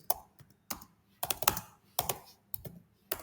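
Irregular bursts of close, crisp keystrokes on a computer keyboard, typed in short runs with brief pauses between them, no voices.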